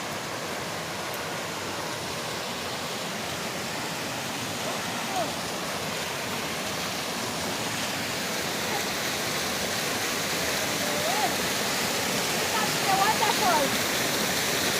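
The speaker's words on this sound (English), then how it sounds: "Waterfall." Falling water from a waterfall hisses and rumbles steadily at a moderate distance, an unbroken broadband rush that swells slightly toward the end with faint voices mixed in.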